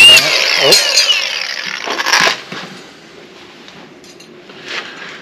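A cutoff wheel screams loudly as it grinds a groove ahead of welding, then cuts off after about two seconds, leaving a quieter, fading whir with a brief rise near the end.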